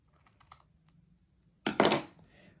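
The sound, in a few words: scissors trimming lace on paper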